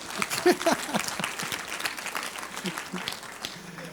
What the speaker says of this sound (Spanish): un aplauso a Isaí, que sí lo reconoce